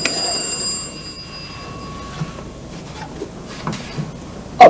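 A bell-type telephone rings once at the start with a bright metallic trill, then falls quiet, leaving a hushed room with a few faint knocks and shuffles.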